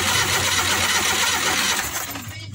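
A Suzuki F6A engine in a multicab cranks steadily but fails to catch, a dense, loud mechanical churn that holds even and then fades slightly toward the end, with no voices.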